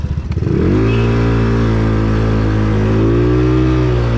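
A motorcycle engine starts with a brief clatter, then idles steadily and loudly up close with a deep, even rumble.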